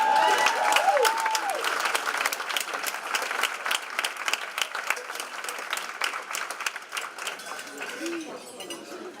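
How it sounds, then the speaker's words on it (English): Applause from a gala audience: a sustained round of clapping that starts strong and slowly tapers off, with crowd voices mixed in. "Give her another round of applause."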